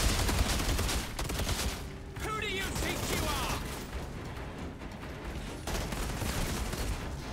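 Rapid gunfire in the shooter game Outriders, dense overlapping bursts running nearly the whole time with a brief lull midway, loud and close, with faint voices mixed in.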